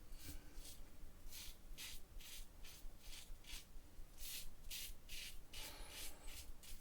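A RazoRock Lupo 95 safety razor with a new blade shaves about three days of beard with the grain, giving a rhythmic series of soft, close rasping strokes, roughly a dozen in a row.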